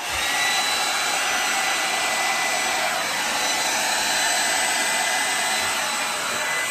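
Constant loud air blowing from a blower or dryer pushes thick blue and aqua acrylic paint across a canvas in a Dutch pour, a steady roaring whoosh that holds for several seconds without a break.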